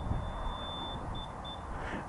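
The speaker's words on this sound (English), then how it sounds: "That bloody alarm." A motorcycle alarm sounds as a thin electronic tone with a few short beeps near the end, set against a low rumble of background noise.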